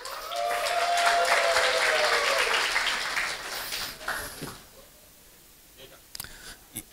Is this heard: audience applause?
yes